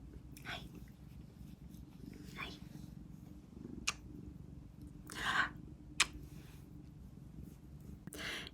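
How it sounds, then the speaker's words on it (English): A house cat purrs softly and continuously somewhere close behind a quiet, whispering voice, with a few sharp clicks and rustles over a low, steady hum. "There's my cat behind me."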